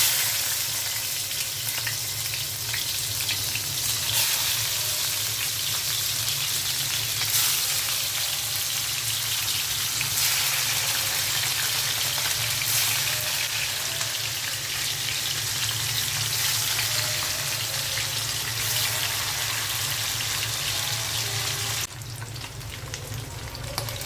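Hilsa fish frying in mustard oil, a continuous loud crackling sizzle with scattered pops that holds steady throughout and drops away only at the very end, with no talking.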